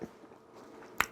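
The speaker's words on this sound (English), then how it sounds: "There is a crunch to it." A crunchy PSMF protein cookie is bitten close to the mic, with soft chewing noises and then one sharp crisp crunch near the end.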